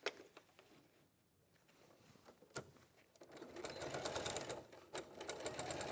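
Sewing machine stitching quilt fabric: quiet rapid mechanical stitching, starting in short bursts, pausing briefly, then running steadily with rhythmic needle clatter, no talking.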